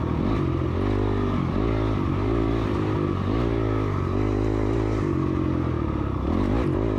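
A dirt bike engine revs and drones steadily at close range during a woods race, its pitch rising and falling with throttle blips over the full stretch without pause.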